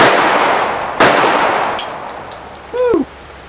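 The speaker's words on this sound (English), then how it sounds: "Get the pumpkin, see what 45 does on pumpkin." A single loud .45 caliber pistol shot fired at a pumpkin on a gun range, a sharp close crack with a long fading echo, followed by a brief whooping voice.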